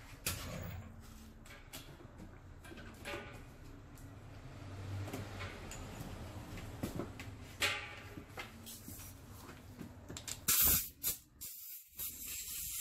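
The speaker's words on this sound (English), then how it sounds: "I have a blowgun there. I'm just blowing the surrounding area of the bulb cover" Compressed air from a blowgun hisses in steady bursts around the valve cover of a 2006 Acura TL 3.2L V6 during a valve adjustment, loud and close, with a few sharp louder blasts near the end.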